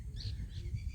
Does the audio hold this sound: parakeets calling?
yes